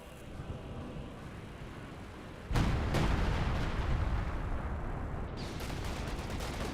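Artillery barrage in the game Company of Heroes 2: a low rumbling battlefield ambience broken by a sudden loud blast, followed by a sustained roar of explosions and rolling booms, with a second impact shortly after.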